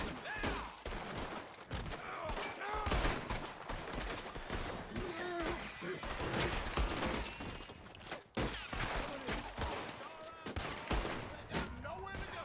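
Dense gunfire in the open-world western game Red Dead Redemption 2, with rapid overlapping rifle and pistol shots forming a sustained fusillade, loud and continuous, while someone shouts excitedly over the shooting.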